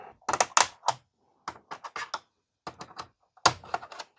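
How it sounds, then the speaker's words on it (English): Plastic keyboard pieces and clips are pried off a Sun Microsystems laptop, giving a series of sharp close clicks, snaps and taps in uneven clusters separated by brief silences. "So we're removing this whole piece here, including these clips."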